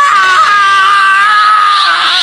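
A person's voice imitates Gohan's beast-form scream from Dragon Ball, a loud, sustained, high-pitched shriek held steadily at close range for about two seconds.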